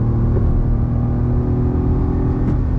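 A 2024 Maruti Swift AMT engine, held in manual mode, revs loud and close with a steady, sustained drone climbing toward redline, with no talk over it.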